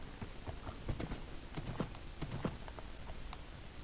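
Horse hooves clip-clop in the Minecraft video game, a scattered run of light, close taps over a steady background bed, with no talking.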